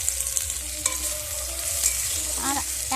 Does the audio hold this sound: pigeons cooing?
no